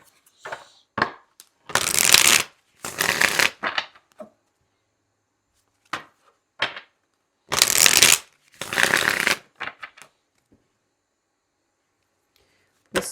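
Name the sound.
shuffling tarot card deck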